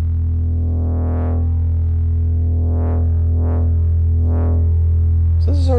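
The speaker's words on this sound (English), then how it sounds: "it's got this brute factor, which is sort of a distortion" A synthesizer drones with its brute factor distortion turned up, a thick buzzing sustained tone with swelling filter sweeps rising and falling several times, ending in a brief bright sputter.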